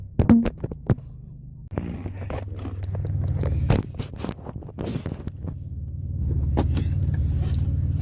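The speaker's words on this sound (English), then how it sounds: "Put it in drive and let's see how it goes" A 2005 Chevy Impala pulls away after being shifted into drive, its low engine and road rumble holding steady and swelling slightly. A few sharp clicks and knocks from the cabin come at the start, with no one speaking.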